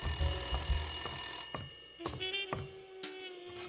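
A telephone rings in a PC video game, repeated bell-like electronic rings with short gaps between bursts, clear and fairly quiet, with no talk.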